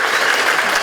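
Brief burst of audience applause at a Balinese performance event, loud and dense clapping from a crowd for under a second with no distinct voices.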